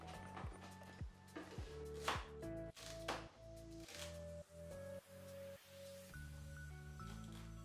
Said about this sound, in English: I'm going to chop it a bit more to cut it into smaller pieces